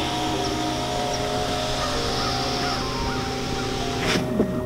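A bird calls outdoors over a steady low background hum, the call fairly faint and distant, heard from inside a Rolls-Royce Phantom.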